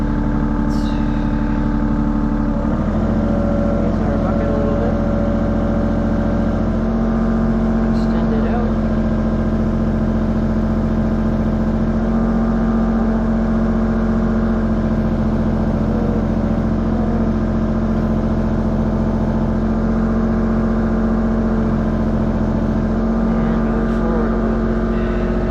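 A mini excavator's diesel engine idles steadily and loud throughout, a constant low drone with slight changes in revving, out in a wintry setting by a blown-out pond, with occasional clanks over it.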